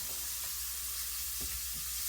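Shrimp fry in a pan with a continuous, loud hiss of sizzling oil, broken by a few soft stirring knocks.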